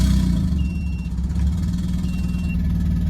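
A big-turbo Nissan Silvia S14 engine rumbles close by at a very low idle, briefly rising and dipping in pitch as the throttle is lightly tapped, then returning to a low idle.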